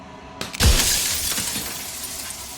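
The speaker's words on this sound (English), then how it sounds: "turning the mirror into jagged shards of broken glass" A mirror in the video game Slay the Princess cracks and shatters into glass shards: a sharp crack, then a loud bursting smash followed by tinkling, scattering fragments that fade out.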